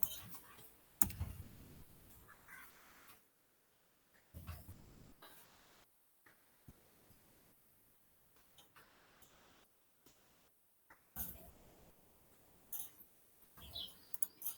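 A computer mouse gives a few sharp, close clicks, some paired, scattered among quiet stretches at a low level with no talking.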